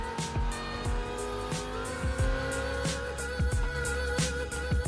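Race car lapping a circuit in Real Racing 3, its steady engine drone running throughout with repeated gear-shift pitch drops and sharp bursts, loud and close with no talking.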